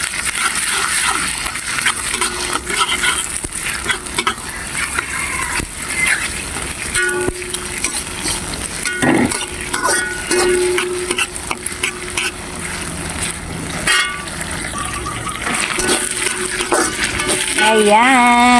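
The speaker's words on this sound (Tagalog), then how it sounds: "Lagay natin ang chili. Haluin natin, haluin." Chili stirred around a hot cooking pan for a spicy ulam, a steady close-up scrape and shuffle over a continuous sizzling hiss that runs unbroken the whole time.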